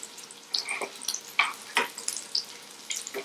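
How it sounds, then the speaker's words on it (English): Canned salmon patties brown in a pan on a small stovetop, giving soft irregular sizzles and crackles with scattered pops, close and moderately quiet. "I'm browning them nicely here on top of the stove, or my little sort of stove here."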